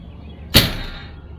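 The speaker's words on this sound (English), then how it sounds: "Kind of slams it, but that's okay." A spring-loaded screen door on a 2022 Rockwood Mini Lite 2509S camper slamming shut once, a single sharp clap with a brief rattle, close and alone.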